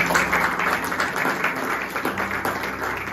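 Church congregation applauding together, a dense, steady wash of clapping that holds at an even level throughout, with a faint voice mixed in underneath.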